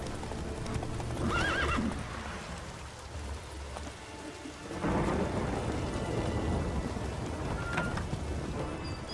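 Roach, Geralt's horse in The Witcher 3, gallops along with loud, steady hoofbeats and a whinny, set against rain and rolling thunder in a stormy game scene, with no talk.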